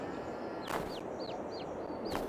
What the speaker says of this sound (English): Oh, there's a little chick. Hear it chirping.